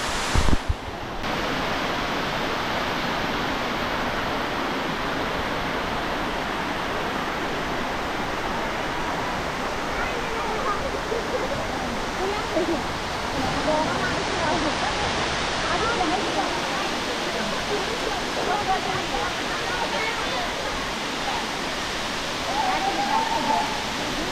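Chingudiha waterfall in Mayurbhanj roars as a steady, dense wash of falling water, loud and continuous throughout with no breaks.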